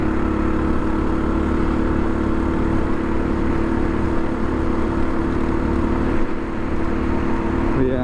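A Phatmoto motorized bike's small engine runs with its governor removed, a continuous buzzy drone heard close and loud, holding steady throughout with slight wavering and no talking.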